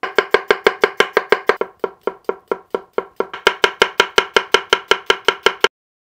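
Rapid, crisp chopping of food on a cutting board with a Bunka knife, about thirty sharp even strokes in quick succession with a brief slower patch midway, close and loud with no voices, ending abruptly.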